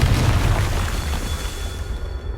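Confringo fire spell explosion in the video game Hogwarts Legacy: a single deep, booming blast that rumbles loudly and then slowly fades over about two seconds.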